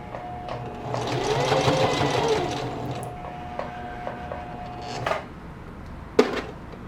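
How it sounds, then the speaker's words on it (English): A sewing machine runs a straight stitch across the back pocket of a pair of jeans, a steady close mechanical whir for about five seconds that stops. Then come a few short knocks and a sharp clack. "when I head back that way, it'll just be straight stitching again"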